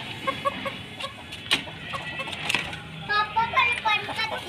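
Chickens cluck in short repeated bursts close by in a backyard coop with roosters, mixed with a voice and other people talking.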